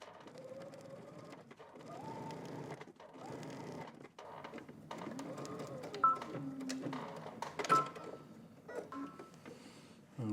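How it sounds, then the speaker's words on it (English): A sewing machine stitches along a seam of a puffer jacket made from a Know Me 2061 pattern, running in close bursts with short pauses between them, plus a few light mechanical clicks and no talking. "I'm just stitching on this side of the seam all the way to the other corner."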